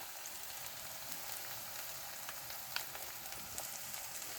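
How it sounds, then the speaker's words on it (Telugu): Prawns fry in a pan with salt and chili for gongura curry, giving a steady, even sizzle that hisses on throughout, close and moderately loud, with a few faint pops and crackles. "ఇలా వేయించి కొంచెం సేపు ఉప్పు కారం ఈ రొయ్యలు పట్టేటట్టు వేగిద్దాం."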